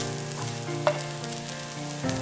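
Sorrel leaves frying in a pan, a steady soft sizzle with occasional stirring scrapes and a sharper clink near the middle, close and continuous.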